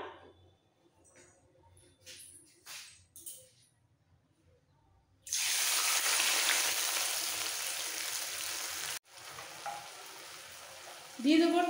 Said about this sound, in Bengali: এবার এর মধ্যে দিয়ে দেবো লিকুইড সর্ষে বাটাটা।